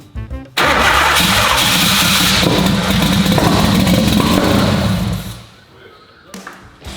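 A car engine cranks briefly, then catches and runs loudly and roughly with its timing out for several seconds before being cut off, leaving quieter background with voices.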